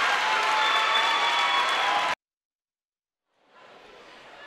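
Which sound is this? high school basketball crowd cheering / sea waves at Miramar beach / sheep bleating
high school basketball crowd cheering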